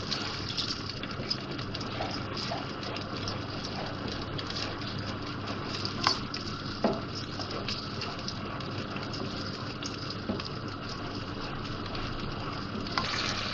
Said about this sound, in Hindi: ये प्याज का पेस्ट डाल रही हूँ मैं इसमें। भूनेंगे इसको थोड़ा सा।